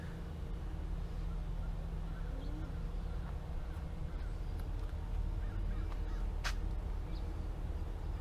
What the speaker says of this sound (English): Crazy crows up in a tree.